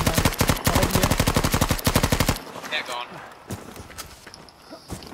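A Type 100 submachine gun in a World War II video game set on Iwo Jima fires a long rapid burst, then gives way to scattered distant shots and clatter, with players talking over the action.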